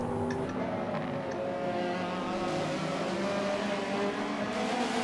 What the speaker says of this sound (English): TCR cars going around a track.